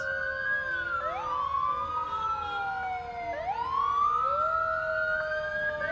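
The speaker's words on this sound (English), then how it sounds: "I hear the sirens, so that can only mean one thing" An ambulance siren wails up and down in slow sweeping tones at a downtown holiday parade, steady and fairly close, with a low traffic rumble beneath.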